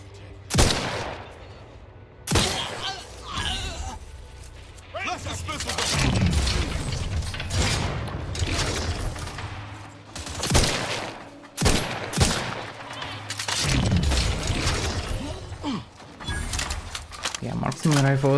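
Marksman rifle fire in The Outer Worlds 2, with sharp, loud shots spread irregularly across the stretch and dense game effects in between, while a player talks throughout.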